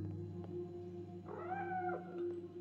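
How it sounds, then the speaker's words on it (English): A cat meows once in the Life is Strange: Double Exposure video game, a single rising-and-falling mew of moderate loudness over a steady low ambient hum, with no talking. "Where's the cat?"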